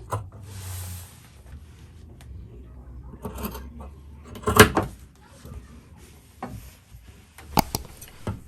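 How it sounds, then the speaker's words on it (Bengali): Scissors snip through cloth while a burqa for a twelve-year-old girl is cut out along a rounded shape, giving soft, uneven cutting noises with a few sharper clicks over a quiet room background. "এখন আমি কাপড়টিকে কেটে নিচ্ছি।"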